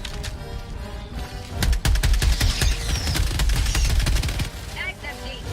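Rapid gunfire in the Helldivers 2 video game, a dense burst of sharp automatic shots lasting about three seconds, loud and close, followed by a few scattered impacts and fainter background noise.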